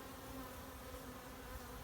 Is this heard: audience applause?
no